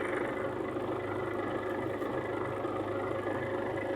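MTZ-82.1 tractor engine running steadily while powering a capstan winch, a continuous mid-pitched idling drone with a fine regular pulse, close and unbroken throughout with no talk.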